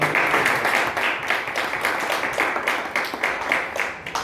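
Congregation applauding inside a church during a sermon service, a steady wash of many hands clapping at moderate volume with no talk over it.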